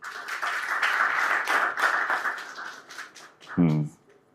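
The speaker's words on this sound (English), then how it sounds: "Another round of applause." Audience applause for a book launch panel, a dense steady clapping that holds for about three and a half seconds before a brief voice cuts in near the end.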